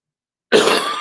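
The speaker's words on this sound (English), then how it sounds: "Sorry about the coughing" A single harsh cough starts abruptly after half a second of silence and trails off, close and loud with no speech.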